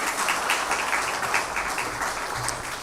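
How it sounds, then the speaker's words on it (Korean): Applause fills a university chapel after a choir performance, a dense, moderately loud patter of many hands that stays even throughout. "우리 다시 한번 감사의 박수하겠습니다"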